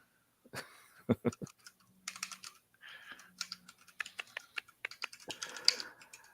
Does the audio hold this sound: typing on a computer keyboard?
yes